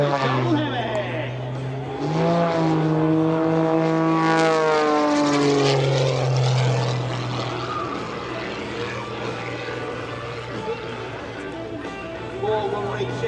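A propeller aerobatic airplane flying a double hammerhead at the EAA AirVenture airshow, its loud engine drone rising and falling in pitch as it climbs and turns, with an announcer talking over it.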